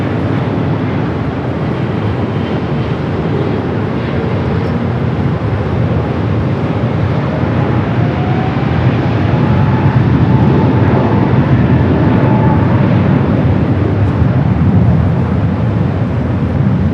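A China Eastern Boeing 777-300ER jet landing at LAX, a sustained loud jet roar with a faint falling whine, steady throughout and heard from some distance outdoors.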